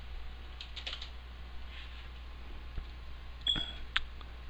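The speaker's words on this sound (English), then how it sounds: "let's type in MC" Soft clicking of keystrokes on a computer keyboard as a short search term is typed, a few quiet taps over a faint steady background hum.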